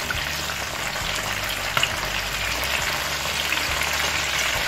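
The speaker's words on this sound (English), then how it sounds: "Once one side is finished frying, you turn the other side." Hake fish sizzles and crackles steadily in a hot frying pan, a constant hissing spatter with no voices.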